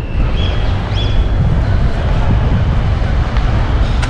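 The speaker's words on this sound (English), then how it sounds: "The wind." Wind blowing steadily outdoors along a street in Barcelona, a continuous broadband rush with low gusty rumble filling the whole span, fairly loud and close to the microphone.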